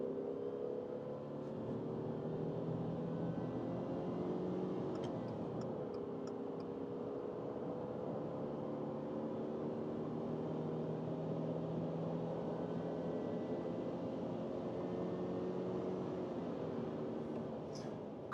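Engine of a 2025 Subaru Forester hybrid accelerating in sport mode, a steady droning hum with rising, stepping tones heard from inside the cabin, even and moderately quiet throughout.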